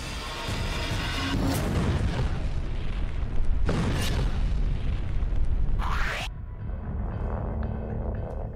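A missile strike explosion, a long, loud, rumbling roar with deep booming blasts and sharp cracks that trail into a lower rumble, with no talking.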